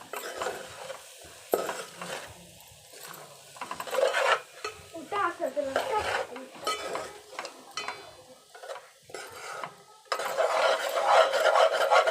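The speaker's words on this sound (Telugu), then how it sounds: "కలుపుకోవాలి మంచిగా." Pulihora rice being stirred and mixed in a pan in a home kitchen, with irregular scraping and rubbing strokes that come in bursts, clear and close, with no talk.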